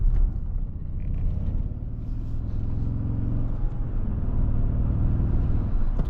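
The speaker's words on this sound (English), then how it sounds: "It has like the rumble of a V8 and sounds like a V8" A 2022 Toyota Tundra Hybrid Limited pickup rumbles steadily with a deep, V8-like engine drone while driving, heard from inside the cab with no talk.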